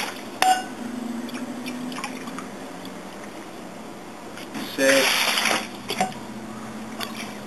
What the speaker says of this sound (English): we're just going to measure in 10 cups of water right away into this 5-gallon bucket